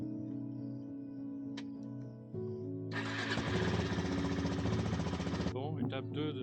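A motorcycle engine fires up after an alternator repair: a rough cranking start, then a few seconds of loud, rumbling idle that cuts out abruptly.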